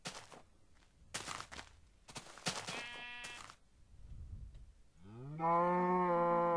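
A cow in the video game Minecraft moos, a long harmonic low call rising loudly near the end after assorted game clicks and thumps.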